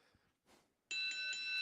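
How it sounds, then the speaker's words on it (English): A bell rings out loud and sustained with a bright, steady tone after faint noise at an equestrian show jumping competition venue. "I heard a bell. No ambient, but a bell."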